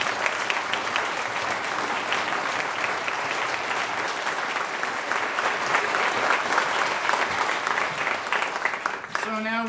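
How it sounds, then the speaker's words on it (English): Audience at a school wind ensemble concert claps steadily and loudly for about nine seconds, a dense even wash of applause that cuts off near the end. "So a big round of applause for them as well."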